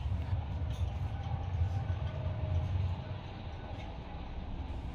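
PKP EIP high-speed train running between Gdansk and Warsaw, a steady low rumble of carriage and wheels heard from inside, constant and moderately loud with faint rail clatter and no talking.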